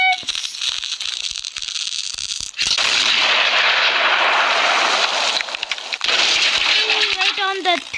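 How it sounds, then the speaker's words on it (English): Cannons firing in the Fireworks Mania video game, a burst of crackling, rattling blasts and debris noise over a town, with loud sustained explosive roar and a brief whistling tone near the end. "Fire the cannons!"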